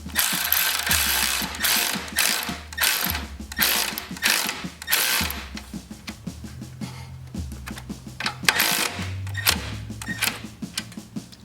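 Ratchet tightening a bolt down on a snow blower, rapid loud clicking strokes in repeated bursts, close up with a brief pause midway.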